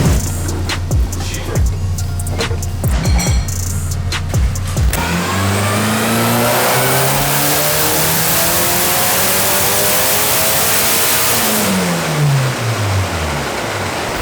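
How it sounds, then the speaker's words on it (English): Gymkhana Evo rally car revving hard on a dyno, loud and close, its engine note sweeping up and down in pitch with a rising transmission gear whine riding above the roar. "The transmission's so loud, the gear whine, the bang, bang, bang."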